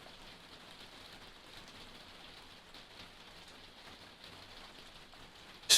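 Steady rain falling, a dense even hiss of drops on surfaces continuing throughout, moderately loud with no voices or other sounds.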